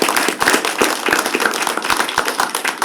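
An audience applauds after an employer panel on AI at work, a brisk, close burst of many hands clapping at an even loud level throughout.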